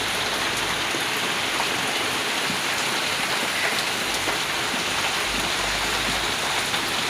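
A downpour of heavy rain falls without pause at a building site by a house, filling the air with a close, loud, unbroken wash of water striking surfaces.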